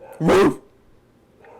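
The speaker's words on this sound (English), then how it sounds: "Sorry if you can hear my dog in the background." A dog barks once in the background of an indoor conversation, a single short, fairly loud woof followed by quiet, with a brief spoken word nearby.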